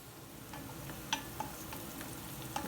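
Onions frying in a pan with turmeric and salt give a soft, steady sizzle, with occasional light ticks and stirring clicks over the hiss, no voices.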